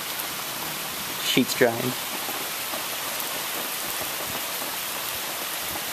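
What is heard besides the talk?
thunderstorm rain pouring down from the gutters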